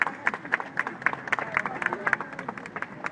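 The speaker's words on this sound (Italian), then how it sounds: "E allora iniziamo a fare un grande applauso alla Madonna." Crowd clapping during an outdoor thanksgiving march for a parish summer youth camp in 2018, rhythmic and fairly steady, with voices and crowd babble mixed in.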